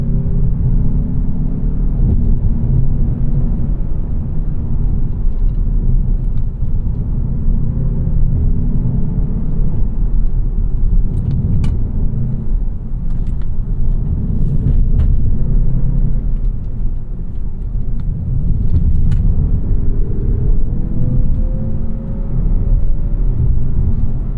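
A 2024 Mazda3 Carbon Turbo hatchback with the CX-50's turbo engine, driving and braking: a steady interior drone and road rumble, with faint shifts in engine pitch and a few small clicks.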